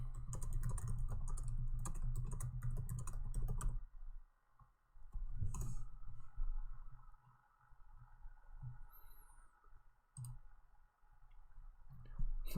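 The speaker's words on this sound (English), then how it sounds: "I don't know why I'm typing to you" Fingers tap quickly on a computer keyboard, dense continuous clicking for several seconds, then sparser, softer keystrokes with pauses, close and quiet with no talking.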